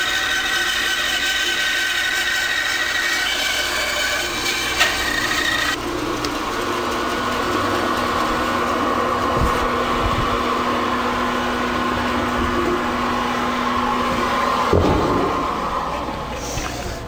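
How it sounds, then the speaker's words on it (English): A bandsaw cuts the rough outside shape of a wooden bowl blank, a steady loud whine and rasping buzz that runs without a break and shifts pitch partway as the blade moves through the wood. "The easiest way to cut the outside shape is by using a bandsaw."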